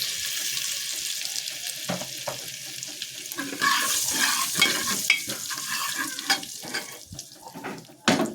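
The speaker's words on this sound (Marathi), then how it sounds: "आता यामध्ये आपण जिरं घालून घेणार आहोत" Cumin seeds sizzle in butter in a pan for Mumbai-style pav bhaji, giving a steady crackling hiss. Scraping stirs and a louder clatter near the end sit over it, with no talk.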